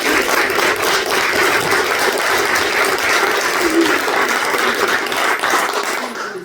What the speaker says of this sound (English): if y'all will give them a round of applause